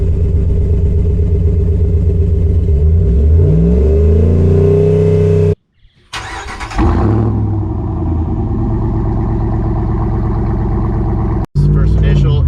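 A car engine with a Carvan exhaust system, heard from inside the cab, revs up loudly, drops out briefly, then roars and settles into a deep, steady rumble.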